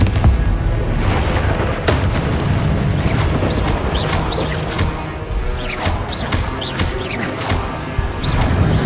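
Confringo fire spell blasts during a boss battle in the game Hogwarts Legacy, a dense run of loud booming explosions and crashing impacts layered over game music and effects, with no pause in the roar.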